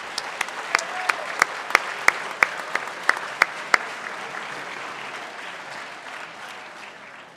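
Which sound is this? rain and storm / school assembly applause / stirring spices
school assembly applause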